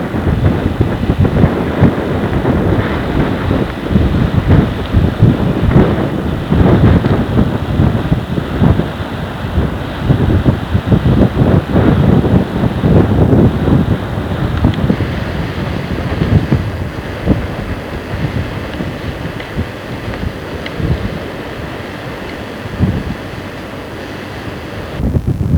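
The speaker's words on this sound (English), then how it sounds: "Very windy on top." Strong wind gusts across the top of a harbour barrier in Lagos, Portugal, buffeting the microphone with a loud, continuous rumble that eases a little toward the end.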